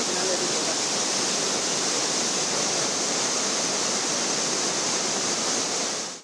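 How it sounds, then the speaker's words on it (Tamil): Flooded Courtallam waterfalls in Tamil Nadu roar in a dense, steady rush of falling water, loud and unbroken for several seconds before cutting off abruptly. "ஐந்தருவி, புலியருவி, சிற்றருவி உள்ளிட்ட குற்றால அருவிகளில் வெள்ளப்பெருக்கு ஏற்பட்டுள்ளதால்"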